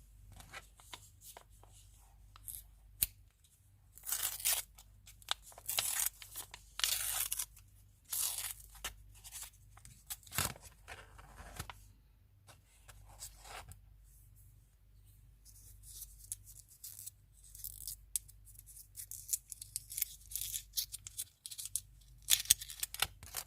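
A bubble gum wrapper is torn open up close, giving crisp, crinkly paper-and-foil rips and rustles in irregular bursts, with no talking.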